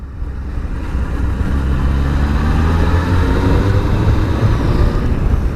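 An old Honda motorcycle engine hums steadily while riding on roads in Gran Canaria, a smooth continuous drone mixed with wind rush, loud and close throughout with no talking.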